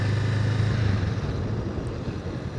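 A 2025 Honda Rebel 500 motorcycle runs on light throttle, its engine a soft, steady low hum with faint road and wind noise and no sharp changes.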